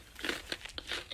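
Close, crisp crunching of dried strawberry being chewed, several quick bites and crackles in a row, with no talking.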